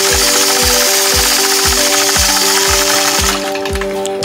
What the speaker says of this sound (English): Now I'll engage my machine, use gentle pressure, and glide right along that curve on the mini 4-in-1 machine quilting ruler.